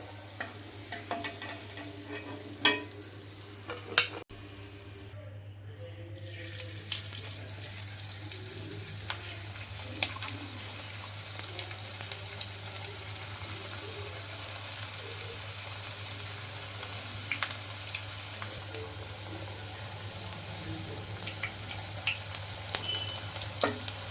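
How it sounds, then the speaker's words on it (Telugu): Wheat flour snacks fry in hot oil with a steady, even sizzle across the whole stretch, marked by scattered crackles and a brief quieter gap early on. A low hum runs underneath, and no one speaks. "ఇంకా రెండు వైపులా మంచి కలర్ వచ్చే వరకు అయితే ఫ్రై చేసుకోవాలి"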